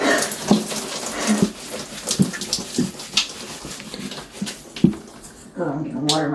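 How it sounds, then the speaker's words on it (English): Water is poured from a jug over a person for a makeshift shower in a van-life setting during hot weather, coming as several splashing dumps and trickles, close and moderately loud, with talk throughout. "we're gonna just dump water over me to do a shower"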